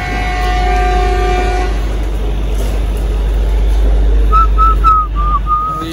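Train at Ludhiana station about to depart, heard as a steady low rumble throughout, with a loud horn or whistle sounding in several short repeated notes near the end.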